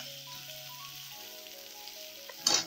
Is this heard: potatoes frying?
yes